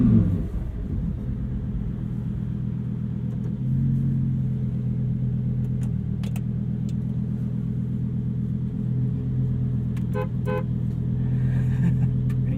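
A Lamborghini Huracan Technica rumbles close by as it pulls away slowly from a standstill, its engine holding a steady, throaty low drone with a small swell partway through and a few faint clicks on top.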